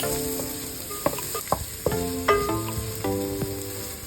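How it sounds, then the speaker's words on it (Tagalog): Onion and garlic sizzle and fry in a pan with a steady crackle, punctuated by clinks and scrapes of a utensil stirring, close and moderately quiet. "First, saute onion and garlic"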